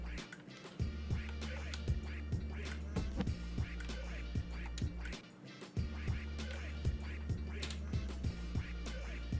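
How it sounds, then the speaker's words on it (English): Bird quacking inside the video game Ark Survival Ascended, a run of repeated duck-like quacks in steady rhythm over a constant low game hum, moderately loud with no talk. "Let me get rid of that bird."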